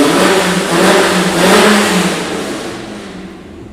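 An EMPI engine on a dyno at the EMPI Engine Battle 2024 revs hard and loud, a roaring steady pull that swells and then gradually eases off.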